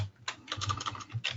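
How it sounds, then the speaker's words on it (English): Typing on a computer keyboard: a quick run of soft, irregular key clicks, close but quiet, with no voices. "Sorry about the typing noise in the background there."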